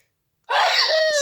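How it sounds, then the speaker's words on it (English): A single loud sneeze sound effect bursts out after a moment of silence, a sharp close blast ending in a brief tonal tail. "Sneezing."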